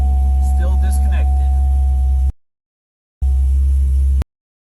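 Supercharged LS3 engine idling with its fuel lines disconnected, its supercharger pulleys spinning up: a steady low rumble carries a constant thin whine, a voice briefly rises over it, and the sound cuts out twice.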